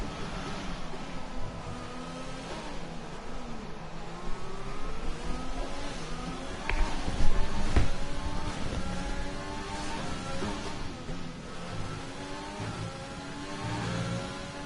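Race car engine in a racing video game, accelerating out of a chicane at the Canada round of a league; a steady mid-pitched whine with rising and falling gear sweeps, continuous and fairly loud, no talk.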